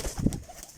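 Pigeons coo in a brief, soft, low burst at moderate distance, alone without any voices.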